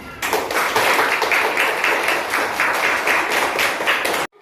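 A classroom of Indonesian schoolchildren claps together in a rhythmic patterned cheer led by their teacher, loud and steady for about four seconds before stopping abruptly.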